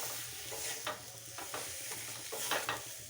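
Potato filling for crispy potato rolls is stir-fried in a pan over low heat: a steady sizzle with repeated scraping strokes of the spatula, close and moderately loud, with no voices.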